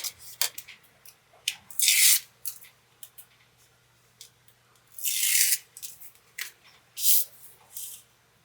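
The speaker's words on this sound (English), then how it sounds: "So I'm just going to add 4 strips of this foam tape here." Strips of foam tape being pulled and cut for a Christmas card panel: several short, close ripping and scissor-like bursts separated by quiet pauses, with faint handling rustles between them.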